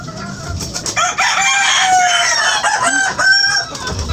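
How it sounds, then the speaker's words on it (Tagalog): A noisy flock of domestic chickens nearby, with loud overlapping crowing and clucking packed into a few seconds. "Nag-iingayan na po ang mga manok."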